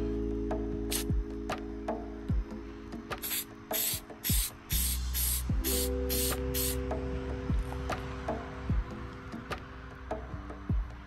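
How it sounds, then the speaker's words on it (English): Short bursts of plastic dip coating spray hiss out in quick succession, mixed with light clicks and handling noises nearby. "Moment of truth, I'm gonna do a test spray too."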